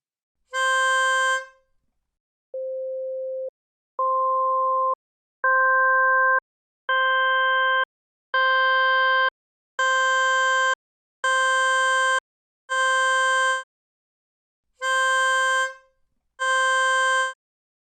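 Synthesized sine-wave tones imitate a melodica, building note by note as harmonics are added one at a time: a sequence of steady, sustained beeps, each slightly brighter than the last, separated by brief silences and ending with two full, reedy tones.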